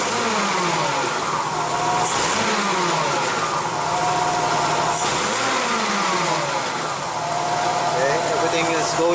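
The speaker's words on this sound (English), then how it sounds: "rev this up a bit" Six-cylinder car engine, recently fixed of a random misfire, revved repeatedly from idle in smooth rising and falling sweeps, loud and close, with talk over it.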